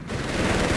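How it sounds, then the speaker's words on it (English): Heavy machine gun fire in Company of Heroes 3, a loud, close, continuous rapid stream of rounds filling the moment with no voices. "That's an HMG!"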